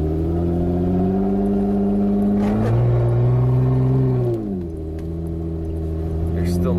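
A Jeep Wrangler with no muffler drones loudly from inside the cab, a deep steady engine note that rises briefly in pitch and then settles back into a low rumble.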